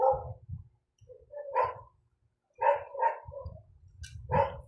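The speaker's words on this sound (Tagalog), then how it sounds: "Pasensya na sa tahol ng aso" A dog barks repeatedly indoors, several sharp yips and woofs in irregular bursts with short pauses between, fairly close and clear with no talk over them.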